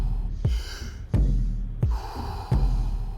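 Deep rhythmic breathing during a power vinyasa yoga session, four strong audible breaths alternating in and out with a forceful nasal rush on each, close and alone without talk.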